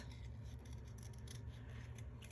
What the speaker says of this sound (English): The trick to fussy cutting is that you don't make the scissors leave.